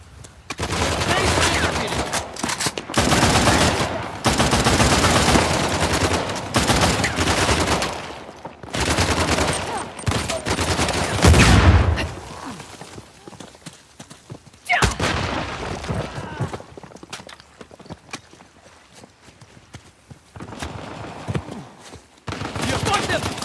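Rapid bursts of automatic gunfire and single shots from the video game Uncharted: The Lost Legacy, loud and close. Shouted voices cut in between the volleys, and the firing thins out toward the end.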